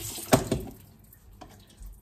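A brief splash of running water from a tap for watering flowers on a terrace: a short close gush, then a fainter trickle that fades within two seconds, with no talking.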